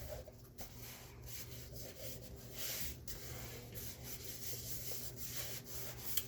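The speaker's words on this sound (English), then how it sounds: "Burnish that down." Paper is burnished down onto a vintage memory-keeper album page with soft, close rubbing strokes, quiet and continuous with a few light taps, and no voices.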